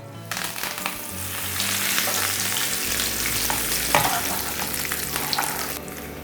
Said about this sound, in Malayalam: അതുപോലെ തന്നെ കറിവേപ്പില നമുക്കൊന്ന് ഫ്രൈ ആക്കി എടുക്കാം.